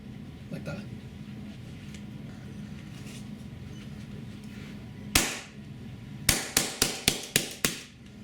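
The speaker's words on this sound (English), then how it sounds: "the gun is very loud and scary loud right now because I'm shooting without ammo" A Tiberius T9.1 CQB .68-caliber paintball marker dry-fired with no paintballs and its CO2 empty: one sharp, loud mechanical snap, then a quick run of about seven more cracking shots, over a low background hum.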